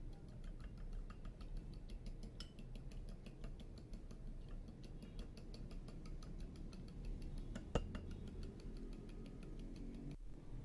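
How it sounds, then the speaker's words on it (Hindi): A fork beating egg with milk in a bowl, quick regular light ticking taps repeating steadily for several seconds, faint and close, over a low background hum. "तो बीट करेंगे ऐसे कांटे से।"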